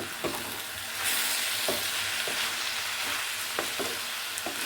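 Tomatoes and vegetables sizzle and fry in a pan for sauce-free fried rice, a steady close crackle broken by several sharp stirring scrapes.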